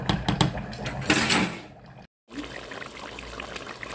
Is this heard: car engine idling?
no